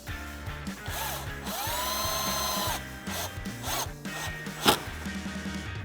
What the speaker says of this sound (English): We're going to use that to tighten this end of our heat shield off, and you're going to need an 8mm socket for this.